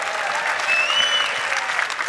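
Crowd applauding and cheering at a 2024 Ford Mustang reveal event, a dense wash of clapping and whoops filling the room, loud and sustained throughout.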